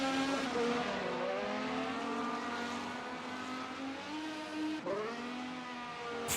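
A race car in a racing video game spins its rear tires on grass, the engine screaming at high revs with wavering pitch and a brief dip and surge near the end, loud and continuous.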